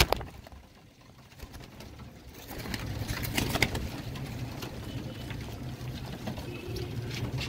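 Royal Teddy breed pigeons in a loft give low, soft cooing murmurs with light fluttering and pattering. The clip opens quietly, then the sounds grow busier and stay close, with no voices.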